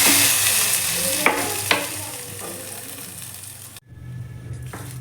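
Tempering of mustard seeds, urad dal, cumin, curry leaves and spice powder in coconut oil sizzles steadily in a pan, with a few sharp stirring scrapes and a brief pause near the end.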